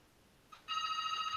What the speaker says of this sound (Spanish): ¿Me aguardan un segundo que atiendo el teléfono que lo tengo acá al lado?